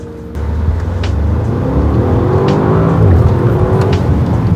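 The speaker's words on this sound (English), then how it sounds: "Smash the brake, floor the throttle." A Bentley Bentayga S in sport mode launches from a standstill at full throttle, its engine roaring loud and close and building steadily through the rise in revs with no break.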